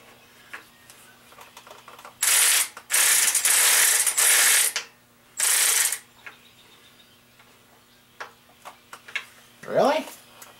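Socket ratchet clicking loudly in several fast bursts during teardown of a 6-inch-rod dirt-track engine, with pauses between the bursts, followed by quieter metallic handling noises and a short voice near the end.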